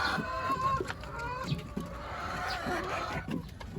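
Morning chickens in a garden clucking and squawking in scattered overlapping calls, moderately near, with faint background noise and no talk.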